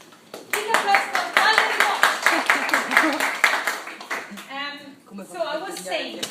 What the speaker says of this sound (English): Let's have a big applause.